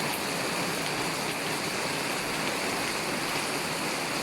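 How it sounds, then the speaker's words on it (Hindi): Heavy rain pours steadily in Kharian as water streams and gushes through drains, a dense, loud, unbroken hiss and rush with no pauses and no voices. "आपको बारिश की आवाज़ आ रही होगी।"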